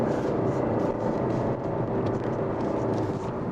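A Kia Stonic engine drones loud and steady at full throttle over 3000 rpm, heavily loaded with two men aboard and straining uphill, with road rumble underneath and no voices.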